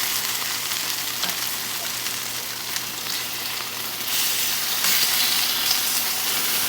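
Chicken wings fry in a kettle with a steady, close sizzle and a crackling hiss that swells slightly toward the end. Nobody speaks.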